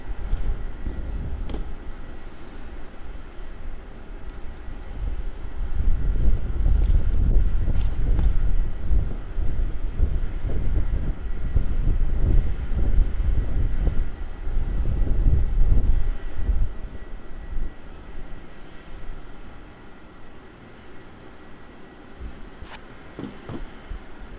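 A Japan Airlines 787-8 bound for Tokyo rolls for takeoff at Melbourne Airport, its broad jet engine roar swelling loud in the middle and then easing, with wind rumble throughout.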